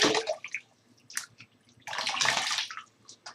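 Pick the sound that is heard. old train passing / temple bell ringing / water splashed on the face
water splashed on the face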